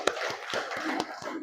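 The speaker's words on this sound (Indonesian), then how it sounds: "Bagus, tepuk tangan." Students applauding in a classroom, a short burst of brisk, uneven hand claps ringing out close by with no one speaking.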